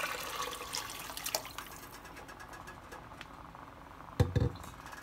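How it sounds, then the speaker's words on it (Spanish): Water poured from a container into a pot of Mexican red rice on a stove, a soft steady trickle at first, then a short louder splash near the end. "Después agrego el resto del agua."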